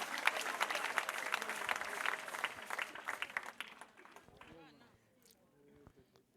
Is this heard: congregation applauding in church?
yes